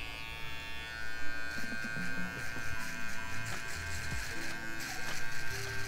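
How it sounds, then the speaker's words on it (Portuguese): An electric finishing clipper buzzes continuously and close up while detailing a quick V-shaped fade haircut, the motor hum wavering slightly as it moves across the hair. "Agora já vamos aproveitar e usar a maquininha de acabamento"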